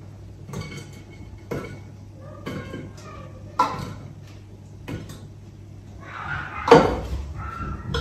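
Pieces of jackfruit set one by one into a large pressure cooker, giving a series of separate clunks and knocks on metal with quiet gaps between them and a louder clatter near the end.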